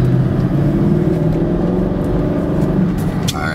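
A Mercedes SL500 V8 with the top down accelerates hard, its exhaust pipes giving a loud, steady engine drone that holds close and continuous with a slight rise and fall throughout.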